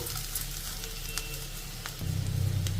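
Onions and potatoes frying in a pan for an aloo fry, with a steady close sizzle that grows louder and denser after about two seconds. No one speaks.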